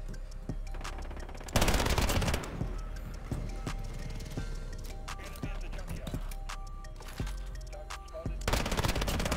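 Rapid bursts of FiNN LMG machine-gun fire in the Modern Warfare video game, loud and dense, with repeated rattling volleys and short gaps between them.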